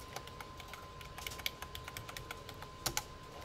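Close fingers clatter on a computer keyboard in quick irregular taps, with a few louder key strikes and no talk.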